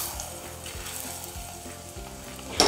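Thick Uttarakhandi rot frying in plenty of ghee over a medium flame, a steady close sizzle with faint stirring scrapes and a brighter crackling burst near the end.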